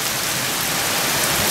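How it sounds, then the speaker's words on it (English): Steady rain pours down outdoors, a dense, even hiss of drops on surfaces that stays loud and unbroken throughout, with no voices. "We need the rain."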